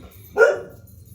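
A dog barks once indoors, a single short, moderately loud bark standing out against quiet room background.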